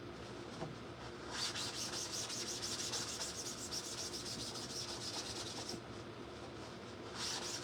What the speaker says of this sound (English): Just adding a little bit more distressing up there since we distressed some of that other stuff.